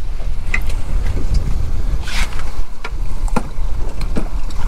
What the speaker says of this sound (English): Wind's come up a little bit.